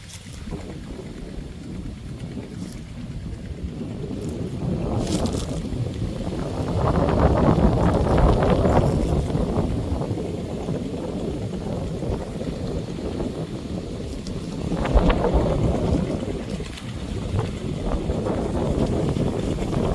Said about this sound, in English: It's a very windy and dusty day today.